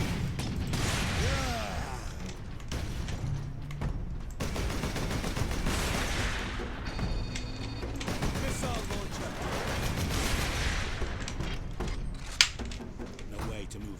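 Rapid bursts of gunfire from automated turrets in Warhammer 40k: Space Marine rattle on without pause alongside clanking mechanical noise, loud and close, with someone talking over them.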